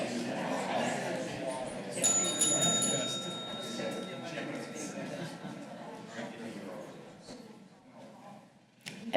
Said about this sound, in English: I love that bell.